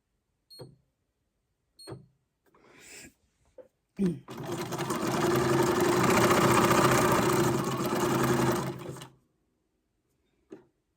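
A sewing machine stitches through paper in one sustained whirring run of about five seconds, preceded and followed by brief mechanical clicks and a short motor burst.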